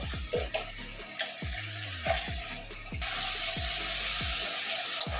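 Spice masala frying and being stirred in a pan for a okra and red lentil dal, steady close sizzle under repeated scraping strokes of a spoon, with a brighter burst of sizzle partway through.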